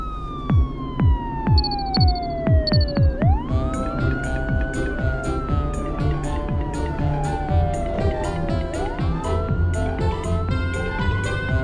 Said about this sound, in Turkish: İlk olarak polis arabası yarışacak.